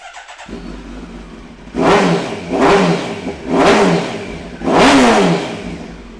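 A warmed-up 2009 Kawasaki ZX10R engine idles, then revs hard four times in quick bursts, each rising and falling back to idle, loud and close with no talking.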